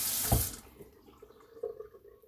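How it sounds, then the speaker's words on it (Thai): Hot water running from a kitchen tap, used for soaking sticky rice, with a loud splashing gush at first that quickly drops to a quieter trickle. "เปิดก๊อกที่นี่"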